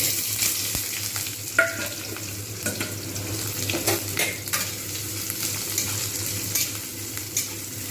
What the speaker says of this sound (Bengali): এইবার আমি এর মধ্যে দিয়ে দেবো কুচনো পেঁয়াজ